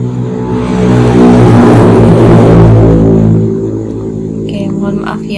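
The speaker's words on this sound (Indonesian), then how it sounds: "mohon maaf ya kalau di sini videonya nanti ada suara-suara motor karena susah untuk dihilangkan kadang-kadang" A motorcycle passes in the background, its engine drone swelling loudly to a peak and then fading away.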